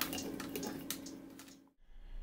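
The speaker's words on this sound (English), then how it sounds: "And cleanup is easy. You just use soap and water." Water runs and splashes steadily while a tray is washed with soap, with scattered clinks and drips close by, then a brief pause before the flow resumes.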